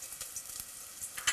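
Onion sizzles in a hot pan as the base for a jackfruit curry, a close, crackling fry with scattered sharp pops and clicks throughout.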